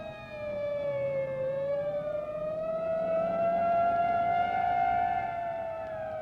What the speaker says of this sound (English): Ambulance speeds through Peyton Place on its way to the Harrington house